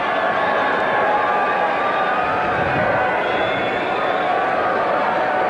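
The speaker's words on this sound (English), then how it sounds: "Big rock and roll crowd." Big rock and roll crowd at a Tigers baseball game at the stadium, a continuous dense roar of many voices filling the air at steady loudness throughout.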